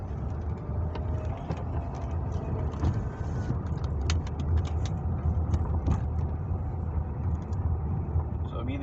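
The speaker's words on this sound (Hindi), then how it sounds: "मैंने हल्की सी ब्रेक अप्लाई की है ताकि मैं स्लो डाउन कर लूँ अपनी कार को।" A car's engine hums steadily as it slows for a speed breaker and then moves on, a continuous low drone under someone speaking throughout.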